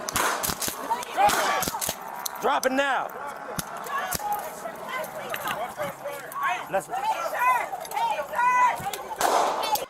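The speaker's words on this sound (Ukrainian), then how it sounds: "Офіцер здійснює ще два постріли" A police shotgun fires beanbag rounds in several sharp, loud reports at irregular intervals. Shouting voices and commotion fill the gaps between the shots.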